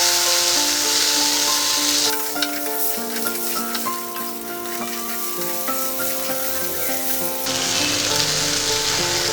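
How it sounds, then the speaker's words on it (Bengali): Loud, continuous sizzling of a Bengali fish curry with potatoes in a pan, with scraping, rubbing stirring strokes running through the middle as the mixture is turned, no talk. "সমস্ত কিছু ভালো করে মিশিয়ে নেব আমি এবার।"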